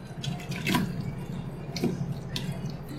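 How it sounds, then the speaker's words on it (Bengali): Boiled beef tipped into a strainer, its cooking water splashing and draining in a few quick bursts of pouring, close by, with a steady trickle between them and no voices. "এখন আমি একটা ছাঁকনির মধ্যে মাংসগুলো ঢেলে নিচ্ছি।"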